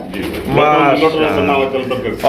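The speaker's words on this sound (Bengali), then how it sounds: "অবশ্যই অবশ্যই নোটন কবুতর" A large Notan pigeon coos up close, one low, rolling, throaty call that swells and then fades over about two seconds.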